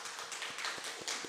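A church congregation claps during a Sunday morning worship service, a brief, soft patter of scattered hand claps heard from a distance.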